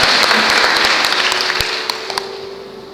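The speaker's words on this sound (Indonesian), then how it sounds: "Tepuk tangan bagi Tuhan kita yang luar biasa." A church congregation at a GPdI Easter service in Pontianak bursts into loud applause, full and sustained at first, then thinning into scattered claps as it fades out.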